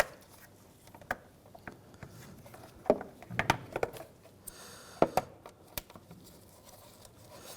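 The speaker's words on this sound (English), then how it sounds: "Put your clips back into place." Plastic air box clips snapping into place on a 2007-2013 Mitsubishi Outlander engine bay: a few sharp, fairly quiet clicks spaced a second or so apart, with soft handling and rustling between them.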